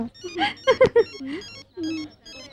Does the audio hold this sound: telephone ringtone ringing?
yes